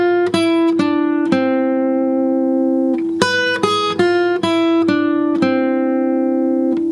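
A single guitar plays a gypsy jazz lead lick, with plucked notes ringing and decaying. Sparse notes open the phrase, then a quicker flurry of picked notes leads to a final sustained tone, close and alone with no talking.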